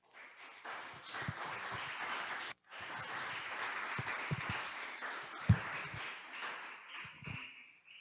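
A church congregation applauds, a faint, distant patter of clapping that runs through most of the stretch with one brief gap and a few louder taps, without voices over it.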